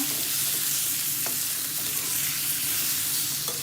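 Chicken coated with ground cashew powder fries in a pan and is stirred, a dense continuous sizzle with faint scraping, close and steady with no voices.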